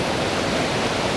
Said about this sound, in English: here at the waterfall behind the King's house